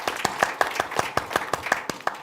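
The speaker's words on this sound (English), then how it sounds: "Round of applause" Conference audience applauding, a steady run of sharp overlapping hand claps at moderate distance, continuous throughout with no talk.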